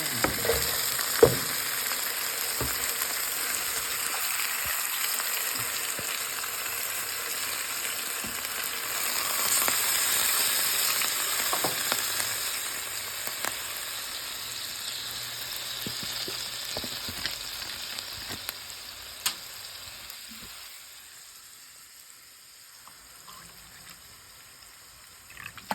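Adobo fries and sizzles in a pan, a steady close hiss with occasional pops and stirring scrapes that gradually quiets toward the end.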